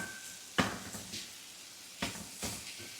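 Onions, tomatoes and curry leaves cook in a pan for prawn vepudu, with a soft steady sizzle broken by a few sharp clinks and scrapes of a spoon against the pan.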